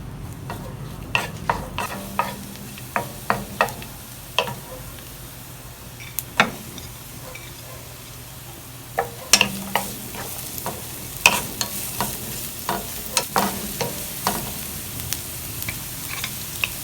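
Tomatoes frying in a pan for an okra dish, a steady sizzle under repeated sharp clicks and scrapes of a utensil stirring against the pan, with no talking.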